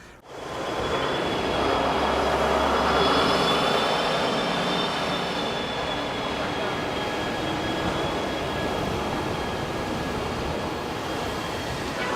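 A Brightline passenger train rumbles steadily at close range, a broad continuous roar with faint high whines above it, holding for about twelve seconds.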